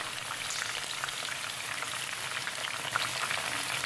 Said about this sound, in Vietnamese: Và sau một hồi chiên thì bây giờ khổ qua nó đã săn lại rồi nè